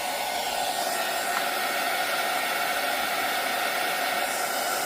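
A handheld heat tool blows hot air onto copper embossing powder on a mixed media junk journal tab, producing a constant, fairly loud whooshing hiss that holds unchanged for the whole stretch without speech.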